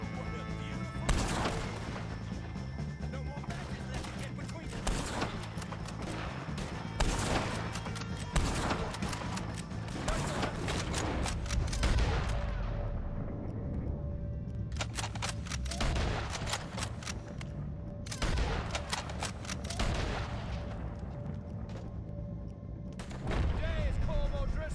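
Rapid gunfire in a video game shootout against the O'Driscoll gang, with repeated bursts and sharp shots over a dense, loud battle bed, while voices shout throughout.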